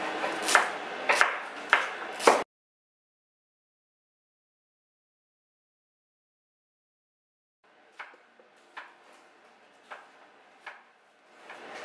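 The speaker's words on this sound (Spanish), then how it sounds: "Y lo vuelvo a juntar para cortarlo más pronto." A knife chops fresh cilantro on a board in quick, crisp strokes: a burst of about five chops, a long silent pause, then another run of evenly spaced cuts.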